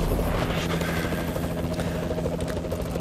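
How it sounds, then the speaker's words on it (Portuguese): A helicopter in the game Call of Duty: Advanced Warfare produces a loud, continuous rotor chop and engine drone that fills the whole clip without pause, mixed with game noise. "E o helicóptero vai e mata uma,"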